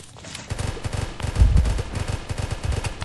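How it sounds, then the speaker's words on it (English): Rapid bursts of goo gun fire from the video game Zombs Royale rattle out in a dense, loud stream with uneven pulses, a heavier thud near the middle, and no talking. "the stupid goo gun"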